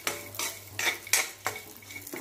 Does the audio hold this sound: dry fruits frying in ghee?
yes